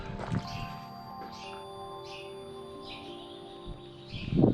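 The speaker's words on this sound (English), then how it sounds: "I can hear there's a lot of birds floating around" Scattered bird chirps ring out in short bursts over a faint steady hum inside the abandoned Lézard Rouge Tunisian royal train with some windows open, with a louder thump at the start and near the end.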